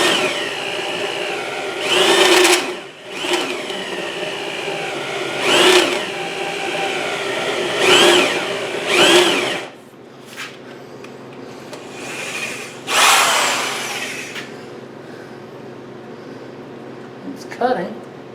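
An electric drill bores into a Yamaha XS650 motorcycle frame in repeated whining bursts that start and stop, with spoken talk in between the cuts in a workshop.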